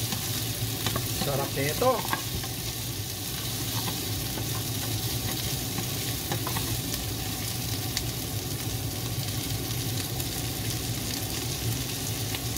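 Sausage frying in a pan with onion for classic callos gives a steady, close sizzle, with stirring scrapes through the first few seconds and a brief spoken remark.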